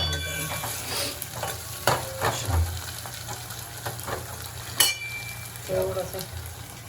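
Chopped onion frying in a pan until golden brown, giving a soft steady sizzle broken by a few sharp clinks and scrapes of a stirring spoon, with faint voices in the background.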